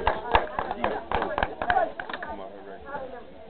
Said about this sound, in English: please give a round of applause for Young Tash